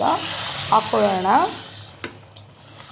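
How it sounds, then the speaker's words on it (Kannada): Hot tempering sizzles as it is poured into a simmering radish and lentil curry, a broad hiss with a wavering tonal squeal near the start and a short clink, fading toward the end with no talk. "ಕುದೀತೀರೋ ಮೂಲಂಗಿ ಬೇಳೆಸಾರ್ಗೆ ಒಗ್ಗರಣೆ ಹಾಕಿಬಿಡೋಣ"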